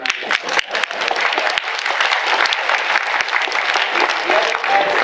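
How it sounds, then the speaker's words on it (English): Convention panel audience applauding a voice actor's panel at Phoenix Comicon, a dense, sustained wash of many hands clapping at steady loudness for the whole stretch, with a few sharper claps near the start. "give yourselves a round of applause"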